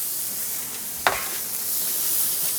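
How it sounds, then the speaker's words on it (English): Beef patty dropped onto a hot Weber Slate griddle for smash burgers, a brief slap followed by a loud, steady sizzle that continues throughout, with no talk. "throw it down right on the hot griddle"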